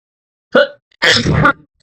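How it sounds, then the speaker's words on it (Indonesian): A man coughs twice while ill, a short bark followed by a longer, harsher cough burst, close and loud in a quiet room. "saya batuk karena sedang sakit"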